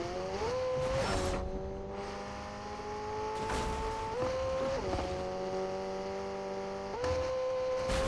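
A McLaren sports car engine in the Fortnite video game drones steadily and loudly, its pitch stepping up through several gear changes with no one talking.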